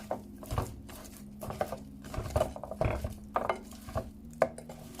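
A spoon stirs blended seasoning through rice in a pot, making soft, irregular scraping and clinking taps that come close together for several seconds, fairly quiet and with no speech.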